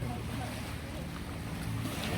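Sea waves wash and rush continuously at a beach resort at night, a steady broadband surf noise with wind buffeting the microphone.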